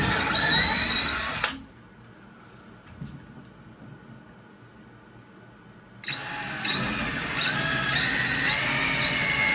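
A power drill pre-drilling holes for a TV wall mount whines loudly in two bursts, first briefly and then in a longer, steady run after a quiet pause.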